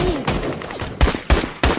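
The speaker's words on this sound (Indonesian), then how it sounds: "kelompok tentara Rusia yang menembaki mereka semua dari kejauhan" Gunfire from Russian soldiers shooting from a distance in a battle scene from the film Primitive War, with scattered shots and then three sharp, loud reports in quick succession.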